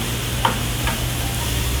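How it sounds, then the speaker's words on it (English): A steady, close sizzle of cod frying in a pan with vegetable stock fills the whole stretch, with a couple of faint clinks of a utensil near the start. "Hear that? Sizzle, sizzle."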